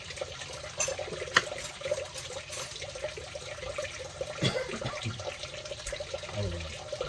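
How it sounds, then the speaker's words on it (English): Water poured into a bowl of vinegar for escovitch kingfish, a faint, quiet trickle and splash in a kitchen with small clinks and handling sounds around it. "I'm going to put half amount of water in it."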